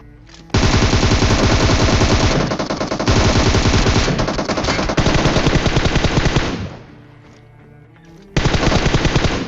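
Automatic gunfire rakes an enemy team in the battle royale game PUBG, with long, loud, rapid bursts, a brief drop in intensity near the end, then another sustained burst, and no talk over it.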